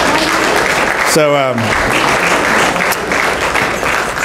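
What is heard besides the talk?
audience clapping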